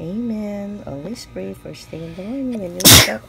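A person sneezes once, loudly, near the end, right after a child's sung prayer.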